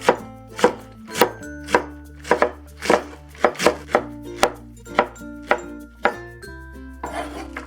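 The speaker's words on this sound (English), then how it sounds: "we can slice the Napa cabbage. I'm going to cut it at an angle in about a 1/4 inch strips" A knife slices Napa cabbage into thin angled strips on a cutting board, about a dozen crisp, evenly spaced chops ringing out close and loud, ending in a softer scraping rustle.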